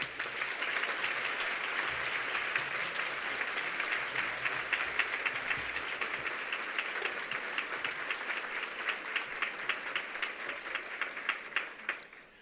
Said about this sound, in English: Please give Dr. Kreeft a warm round of applause.